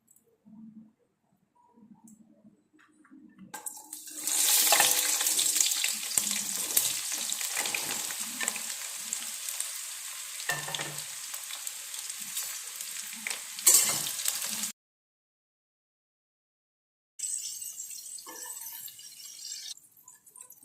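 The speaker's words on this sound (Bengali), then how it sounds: "এখন পটলগুলি ভেজে নিচ্ছি।" Pointed gourds (potol) frying in oil spiced with salt, turmeric, coriander and cumin powder, a loud bright sizzle that swells after a quiet start, cuts out abruptly near the end, then returns softer; no talking.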